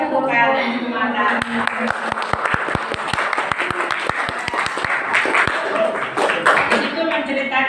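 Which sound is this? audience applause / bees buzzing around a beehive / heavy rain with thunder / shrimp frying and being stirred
audience applause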